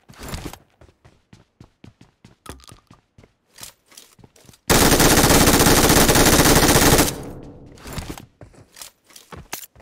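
Simulated AUG assault rifle fire in PUBG Mobile: a string of sharp, loud single shots and short bursts, then a sustained full-auto volley for about two seconds, with scattered shots resuming afterward, no talking.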